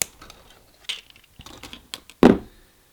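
Pliers snip through jewelry wire during a gemstone wire-wrapping job for earrings and a bracelet, one sharp close cut following a few quiet clicks and handling taps.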